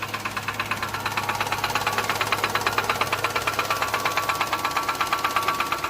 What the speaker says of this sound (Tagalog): Complain, maingay ang makina.